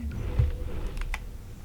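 A computer keyboard's Q key clicks during Far Cry Primal play, a couple of quick, light taps close up over a quiet room-tone hum.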